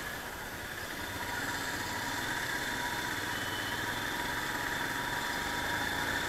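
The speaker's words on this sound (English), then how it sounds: "the exhaust note is very loud and clear" A Royal Enfield Himalayan BS4 motorcycle idles steadily nearby, a low, even engine rumble and exhaust thrum under a broad hiss, with no talking.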